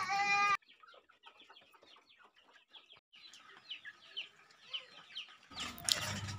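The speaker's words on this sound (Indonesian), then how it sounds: "Kita mencoba beternak ayam kampung seperti habitat aslinya di alam bebas" Free-range village chickens clucking, a series of soft, scattered clucks and chirps from several birds, fairly faint and close, with a louder call at the start and a burst of noise at the end.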